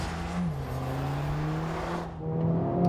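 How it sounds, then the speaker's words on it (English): A 2020 Mercedes-AMG A45 S engine drones and climbs steadily in revs on a track, loud and close, with a smooth, continuous whine that briefly dips near the end. "Really whips around this engine. It makes a really smooth, quite a nice noise."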